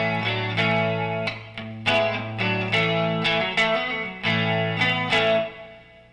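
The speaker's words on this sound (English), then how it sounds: "And the last position is the front pickup all by itself, and it sounds like this." A 1997 Crate electric guitar played on its front pickup alone runs through a short series of strummed chords and riffs, each attack ringing out loud and full with effects-like sustain, no voices over it.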